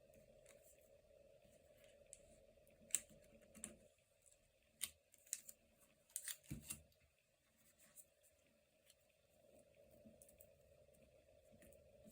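Scissors cutting paper for a cut-out window page in a journal, heard as a few quiet, sparse snips and paper rustles with pauses in between, close by and without talk.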